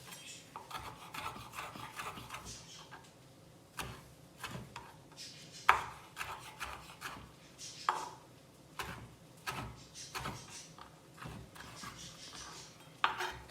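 Tomatoes are chopped with a knife on a cutting board, each sharp tap landing at an irregular pace over soft scraping and rubbing, fairly close.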